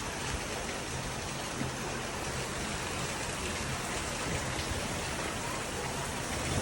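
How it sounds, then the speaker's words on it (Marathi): Steady, heavy rain pours down without a break, a dense even hiss of drops hitting surfaces. "पाऊस पडायचा चालू झालाय बघा लगेच"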